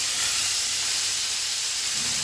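Fish fries in hot oil in a pan, a loud, dense and continuous sizzling hiss heard up close with no voices.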